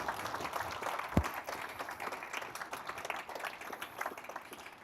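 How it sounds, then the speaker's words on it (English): Audience clapping at an awards ceremony, a steady wash of applause from a large crowd with one sharp low thump near the start; the clapping stays even and moderately loud throughout. "That deserves a clap."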